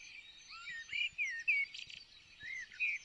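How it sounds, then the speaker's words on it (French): A bird sings a series of bright, whistled chirps and warbling phrases, fairly close and clear over a quiet background. "Il chantait si bien que les enfants s'arrêtèrent pour l'écouter."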